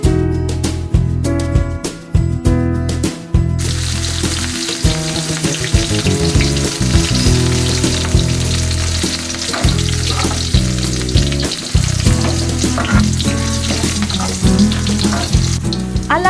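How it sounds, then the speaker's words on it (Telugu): Cumin seeds and chopped green chillies fry in hot oil as tempering for homemade egg fried rice, a steady loud sizzle with stirring clatter and short bursts of crackle at the start, no talking. "ఆయిల్ వేడైన తర్వాత పోపు దినుసులు అందులో వేసుకోండి. ఆ తర్వాత జీలకర్ర, అలాగే కట్ చేసిన పచ్చిమిర్చి,"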